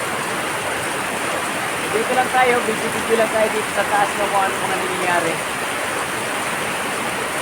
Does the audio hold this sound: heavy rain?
yes